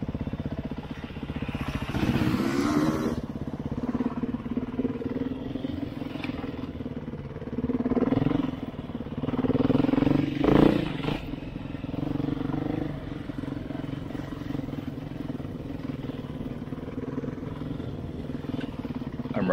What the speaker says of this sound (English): I'm riding a 2021 Beta 390 RRS.